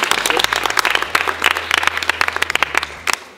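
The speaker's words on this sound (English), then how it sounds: "I think we should give James a clap" A group in a first Circle of Friends session claps for James, a few seconds of scattered, uneven hand claps close by with some voices mixed in.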